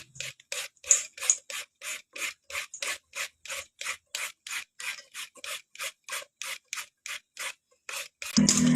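Mango being shredded on a grater, about two dozen steady rasping strokes in an even rhythm, close and alone, ending in a louder rustle.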